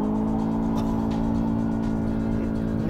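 A 2019 VW Jetta GLI sedan accelerates hard in Sport mode on a quiet road in Tennessee, its engine a loud, continuous droning roar that holds steady throughout with no talking.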